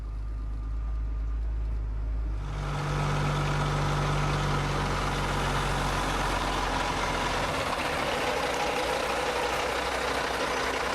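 A Cat-powered truck idles at a Shell truck stop, a steady low diesel rumble that grows louder and fuller after a couple of seconds and holds constant, close by, with no talking.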